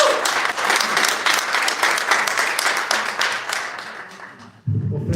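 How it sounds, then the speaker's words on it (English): A crowd at a Pakistan Resolution Day flag-hoisting ceremony applauds the mayor with loud, dense clapping that runs several seconds, then stops abruptly as a voice begins. "Please give a very warm, welcoming round of applause to our mayor."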